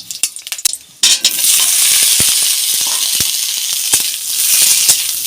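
Panch phoron and dry red chillies hit hot oil with a sudden loud sizzle that settles into a steady, bright frying hiss, with a few clinks of a spoon stirring in the pan.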